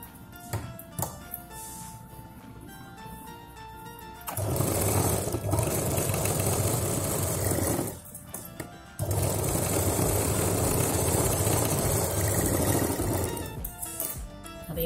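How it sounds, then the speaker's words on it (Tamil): A home sewing machine stitching a strap onto a ladies' handbag: quiet handling first, then two long, loud, steady whirring runs of stitching separated by a brief pause, close to the listener. "இங்கே வரைக்கும் 2 தடவை ஸ்டிச்சஸ் போட்டு எடுத்துக்கலாம்"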